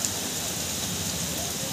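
Heavy monsoon rain pouring steadily on a town in Bailadila, India, a dense, even hiss and patter close to the microphone with no break across the whole stretch.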